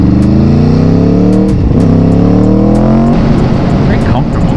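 An Aprilia Tuono V4 motorcycle accelerates hard in track mode, its loud, close engine note climbing steeply and dropping at two quick gear shifts before rising again.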